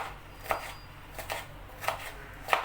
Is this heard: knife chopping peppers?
yes